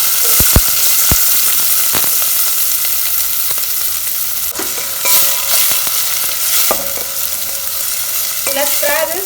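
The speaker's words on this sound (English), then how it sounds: "Let's fry this till it is nice and golden." Chopped onion fries in about a tablespoon of oil in a kadai, a steady loud sizzle with several sharp clicks and scrapes of stirring throughout, no talking.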